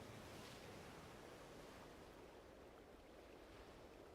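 Waves crash into rocks as background ambience in the Mass Effect video game, a faint, continuous wash of surf noise with no talking.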